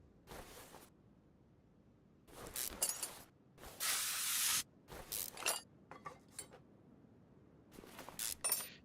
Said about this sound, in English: If you got a stuck bolt and you just spray it with some lube